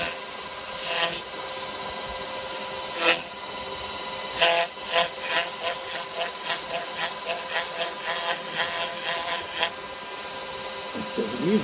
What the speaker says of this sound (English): let's spin it up and just give it a very, very light sanding